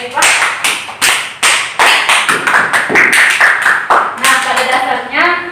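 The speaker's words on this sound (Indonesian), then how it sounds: "Beri aplaus untuk kelompoknya Syarifah." A classroom group gives a round of applause for a student team, several hands clapping close by in a dense, uneven burst that swells and then thins out toward the end.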